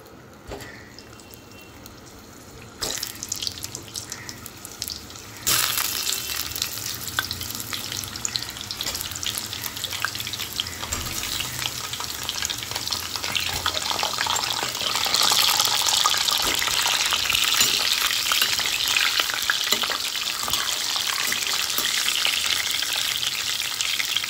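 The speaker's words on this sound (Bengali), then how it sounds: "এবার এই তেলে আগে থেকে হালকা সেদ্ধ করা আলুগুলি ভালো করে ভেজে নেব" Parboiled potatoes hit hot oil and fry with a steady, loud sizzle that builds and thickens over time, punctuated by stirring, close by with no voices.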